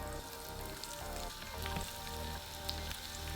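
Onions fry in a few tablespoons of olive oil in a frying pan, a continuous close crackling sizzle with faint stirring and occasional pops, no talk over it.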